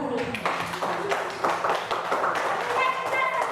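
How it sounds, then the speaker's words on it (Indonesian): A small group clapping hands together in a classroom-style session, a scattered patter of claps at moderate volume that lasts a few seconds. "kita tepuk tangan dulu buat diri kita sendiri"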